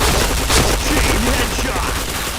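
Rapid gunfire from a shooting video game, dense and continuous at close range, with bursts of shots running through the whole stretch and a faint voice underneath.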